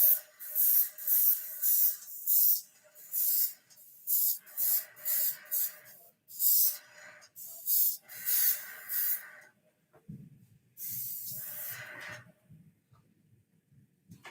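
An airbrush sprays paint to weather an E-flite A-10 Thunderbolt II model, heard as repeated short hissing bursts in a rhythmic on-off pattern, close and clear, with a low rumble joining near the end and no talking.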